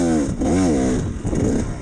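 A GPX TSE 300R motorcycle accelerating hard in second gear, its engine note climbing and wavering loudly up close for about two seconds with no talk.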